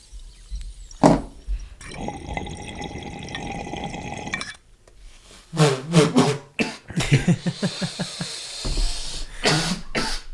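Bubbling water gurgles in bursts, followed by a string of harsh, close coughs, then more bubbling.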